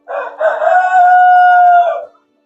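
A rooster on a poultry farm lets out one loud, close crow, a short broken opening that stretches into a long sustained cry before cutting off into silence.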